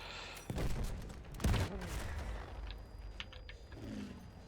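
Incoming gunfire and shelling in the World War I shooter Battlefield 1, a muffled distant barrage of thumps and bursts with a couple of heavier booms and crackling, under a steady rumbling battlefield din.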